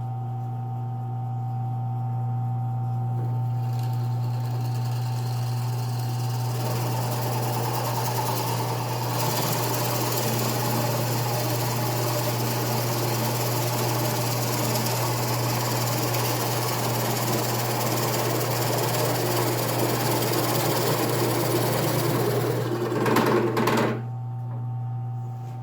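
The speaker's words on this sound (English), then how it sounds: "we're going to do this hole, and I'm going to go through most of the way" A power drill bores a hole most of the way through a penny hockey board, a steady loud motor whine with a constant low hum, running continuously for over twenty seconds before stopping abruptly near the end.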